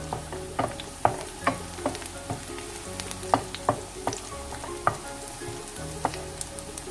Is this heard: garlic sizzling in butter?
yes